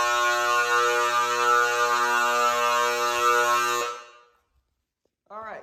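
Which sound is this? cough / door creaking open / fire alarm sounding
fire alarm sounding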